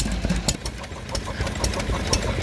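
A vintage Lister H stationary engine with exposed valve gear, a fuel pump behind the flywheel and a magneto runs at an outdoor Victorian-themed show in Llandudno. It gives a steady, close, rhythmic thumping under general crowd noise.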